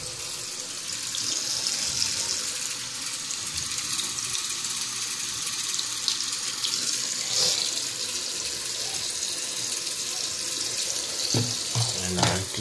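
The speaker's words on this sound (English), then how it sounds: "And I turn the water on." A kitchen or bathroom tap runs steadily into a sink, a continuous close hiss of pouring water that holds for the whole stretch, with a few brief clatters near the end.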